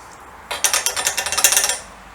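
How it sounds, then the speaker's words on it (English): A saw rapidly cuts down the middle of a metal piece during a workshop repair for a BM B44 trials motorcycle: about a second of loud, fast rasping strokes close by. "I'm just going to cut this down the middle, take a piece out and weld it up."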